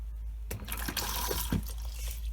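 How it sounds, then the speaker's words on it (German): Toilet flush in a Volkswagen Grand California camper van bathroom: a steady rushing, gurgling wash of water with a low hum beneath, close and continuous for a couple of seconds. "wir haben zusätzlich die Spülung, wo man hier drücken kann"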